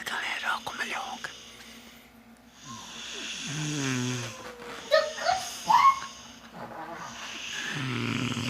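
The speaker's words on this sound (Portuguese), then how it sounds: "Olha como ele ronca." A nephew snores while asleep, with soft, irregular rasping breaths spread over several seconds and a few louder snorts near the middle, close by, under an intermittent whispered voice.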